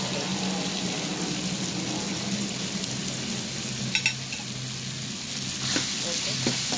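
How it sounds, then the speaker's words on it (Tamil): Tomatoes with turmeric, asafoetida and salt sauté in a pan, giving a continuous close sizzle with a few sharp spatters and stirring scrapes. "மஞ்சத்தூள் போட்டு இப்போ அது நல்லா வதங்கணும்"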